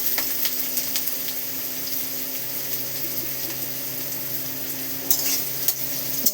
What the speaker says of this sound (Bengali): রসুনটা ভাজা ভাজা হয়ে গেছে, তার মধ্যে পেঁয়াজটা দিয়ে দিয়েছি।